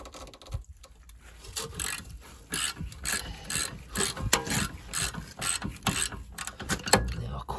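Ratchet working loose 13mm bolts on the rear brake of a Volvo V70 D5, a series of quick clicking ratchet strokes in bursts, close and moderately loud, with short pauses between pulls and no talking.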